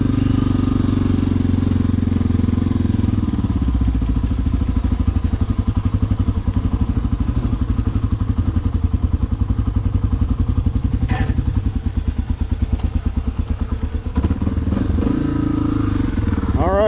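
An old carbureted engine with old gas and a gummed-up carburetor runs after a restart, a loud close, lumpy rhythmic chugging throughout with some rough, uneven firing and a few clanks.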